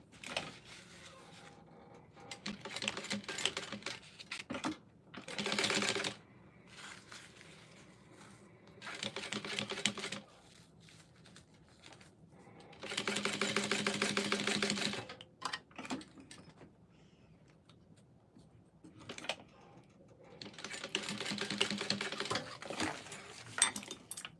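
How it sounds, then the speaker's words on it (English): Sewing machine stitching down the edges of a shoulder bag a quarter inch in, in three separate bursts of steady mechanical running between quieter handling sounds. "I'm gonna go ahead and I'm gonna sew the edges down 1/4 inch"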